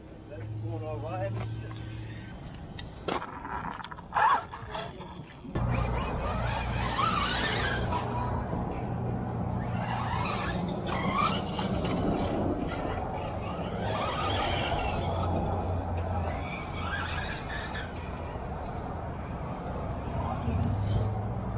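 A Yokomo 4WD RC buggy runs on a raceway: after a few quiet seconds with scattered knocks, a continuous buzzing motor whine starts and carries on with fluctuating pitch, while people talk faintly in the background.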